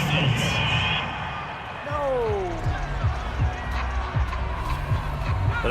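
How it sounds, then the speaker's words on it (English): A home football crowd roars over a penalty call, with steady cheering and whoops under commentators' talk and a few rhythmic thumps. "This home crowd, they're happy with that call."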